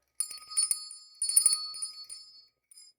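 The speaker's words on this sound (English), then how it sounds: "Here's the bell again." A small bell rings several times in quick bright bursts during a Gundam model-building workshop stream, clear and close, fading out after a few strikes.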